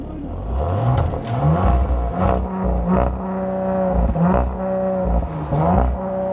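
An Audi RS5's engine revs repeatedly through a throaty exhaust, limited to 4000 rpm, rising and falling in several loud blips, close by with no talking.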